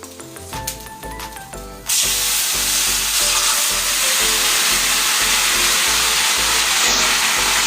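Leafy greens drop into a pan of fried ginger with a sudden loud burst of sizzling that holds steady and close for several seconds, with faint scraping in the pan underneath.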